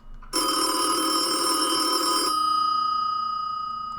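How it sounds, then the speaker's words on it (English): A telephone bell rings at night on a vet's emergency line, a loud continuous metallic trill lasting about two seconds that then fades into a softer lingering ring. "The phone rings."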